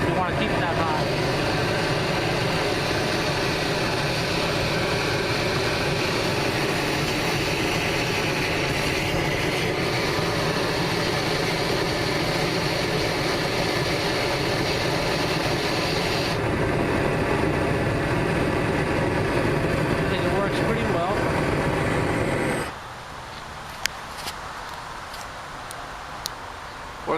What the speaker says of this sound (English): you can see how hot you can get it with this torch. This is just on idle.